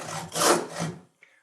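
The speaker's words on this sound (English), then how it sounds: "And then when I actually start sawing" A hand saw cross-cutting a wood board at a workbench gives a couple of close, rasping strokes with a rough swell and fade, then a short scrape before stopping.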